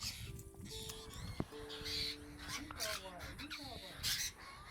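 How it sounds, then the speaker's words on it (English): Noisy miners at a picnic spot by Lake Cunnamulla in inland Australia give quick, sharp chirps and scolding calls, fairly faint, mixed with other bird sounds. "noisy miners"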